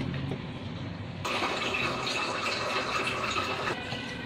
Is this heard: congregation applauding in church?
no